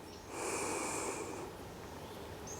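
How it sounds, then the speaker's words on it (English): A single deep breath drawn in and let out during a yoga session, a soft airy rush that swells early and then fades, close and quiet. "Taking one more deep breath in."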